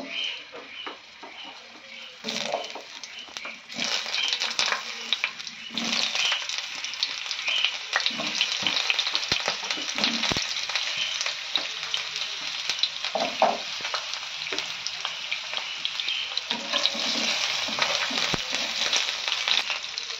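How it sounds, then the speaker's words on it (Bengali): Pointed gourd frying in mustard oil in a frying pan, a loud continuous sizzle with crackles and occasional spatula clinks throughout, no talk. "এবার পটলগুলো আমি ফ্রাইং প্যানে এবার ফ্রাই করে নেব"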